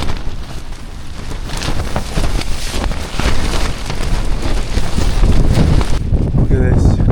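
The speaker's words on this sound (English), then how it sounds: "It's extremely windy right now." Strong gusts during a 60 mph storm roar and buffet the microphone continuously, a loud, rough, unbroken rush of wind noise.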